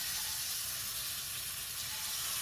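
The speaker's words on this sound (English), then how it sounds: "Now that the oil is medium hot, let's start frying these chicken pieces." Chicken pieces frying in medium-hot oil in a pan give a steady, even sizzling hiss that holds constant throughout without any voices.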